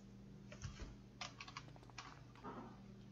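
Fingers tap out a quick burst of keystrokes on a computer keyboard, close and quiet, the clicks coming in small irregular clusters with short pauses between them.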